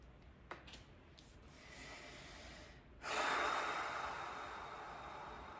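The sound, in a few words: slow deep breath during guided meditation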